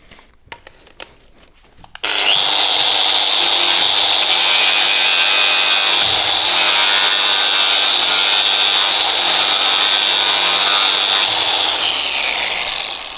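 A Tyrolit disc grinds off a welding seam, starting after a brief quiet moment with a loud, continuous high-pitched grinding whine that holds steady for about eleven seconds.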